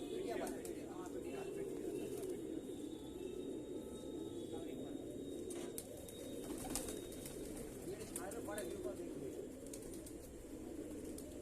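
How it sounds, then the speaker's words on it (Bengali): Assorted pigeons kept in a loft at night coo softly in low, rolling calls against a steady background hum, while people talk nearby. "পায়রাগুলো দেখুন, এখানে নানান ধরনের পায়রা আছে।"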